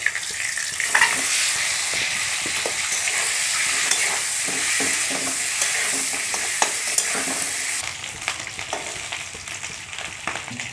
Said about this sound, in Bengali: এবার ডিমগুলো দিয়ে দিচ্ছি, ভেজে নেব।